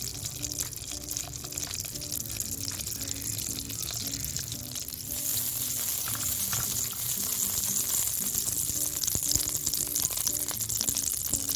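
Desi ghee melts in a pan with a steady, close hiss of frying that thickens and grows slightly louder partway through, with no talking.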